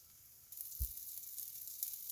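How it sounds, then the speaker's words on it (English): Chicken wrap toasting in butter in a hot pan, giving a faint steady sizzle with one brief soft thump partway through as it settles or is pressed. "we want to just toast it nice and quick, make it a little crispy on the outside, on each side"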